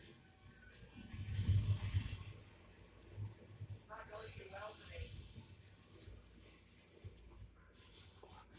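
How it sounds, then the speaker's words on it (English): Green Scotch-Brite pad scrubbing old O27 model train track rails, giving a steady, close rasping rub that swells and fades in strokes, with a brief pause partway through. "Take your green Scotch-Brite. Just clean it up."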